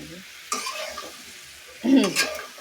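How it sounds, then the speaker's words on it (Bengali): Eggplant and potato sautéed with spices in a village kitchen, sizzling softly in the pan with two louder bursts of stirring and scraping. "বেগুনটা সিদ্ধ হবে, আলুটা সিদ্ধ হবে, তার জন্য কষাতেছি মশলা দিয়ে।"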